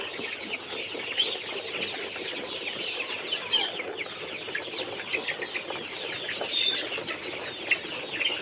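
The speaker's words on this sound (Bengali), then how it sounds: "দেখেন কত সুন্দর করে খাবার খাচ্ছে।" Brown broiler chickens, 35 days old, cluck and chatter continuously while eating feed at midday, a busy flock sound with scattered wing flaps and no talking.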